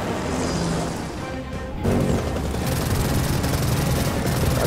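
A helicopter in Gears of War 4 roars with a dense, loud mechanical drone amid chaotic gameplay noise, the sound jumping abruptly louder partway through and staying heavy to the end.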